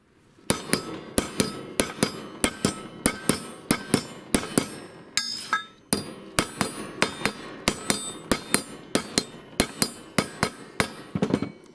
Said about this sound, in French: il y a le coup de marteau